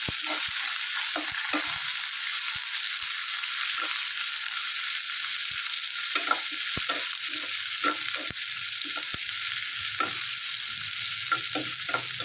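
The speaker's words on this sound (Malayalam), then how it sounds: "ഇനി ആ ഇഞ്ചി പച്ചമുളക് സവോളയൊക്കെ ഒന്ന് നന്നായിട്ട് വഴന്ന് വരണം" Ginger, green chili and onion sautéing in a pan for a carrot stir-fry, a constant loud sizzle with repeated spoon scrapes and taps scattered throughout.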